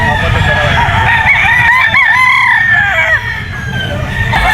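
A gamefowl bull stag rooster crows loudly and close by at a busy Grotto pet market, with one long, wavering call over a constant noisy crowd and clucking from other birds.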